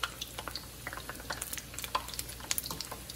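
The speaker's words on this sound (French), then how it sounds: "pour faire revenir vos beignets. Comme ça, les beignets vont dorer de chaque côté." Potato purée beignets fry in a pan, giving a soft, steady crackle of oil with scattered small pops and spits, close by and fairly quiet, with no voices over it.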